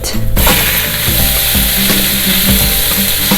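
Plant-based ground meat fries in a pan with already-browned garlic and onions, giving a loud, steady sizzle close by with no talking.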